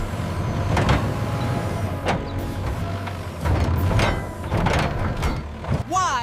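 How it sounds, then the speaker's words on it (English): An excavator at work: a steady low diesel rumble broken by several sharp metallic clanks and knocks at irregular intervals, fairly close, with no talking. "X is in E excavator."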